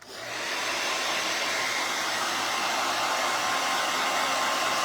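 A hair dryer starts up and runs as a steady, loud, continuous whoosh while drying a fabric transfer, with no talking.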